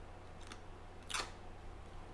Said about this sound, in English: I'm just going to do a slight cut here and another one here, and I'm going to proceed to open it up